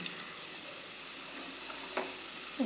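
Sliced onions sizzle steadily in a hot pan with a pinch of salt for a Kerala coconut squid curry, a continuous frying hiss with occasional scrape of stirring, close and alone.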